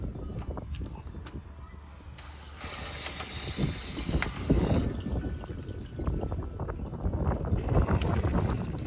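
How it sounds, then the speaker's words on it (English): Water runs into a 28-gallon spare tire basket water tank mounted on a Sprinter van outdoors. A continuous rushing, splashing flow grows louder, mixed with wind buffeting the microphone and a faint voice. "Now it's time to fill it up and make sure that we don't have any leaks."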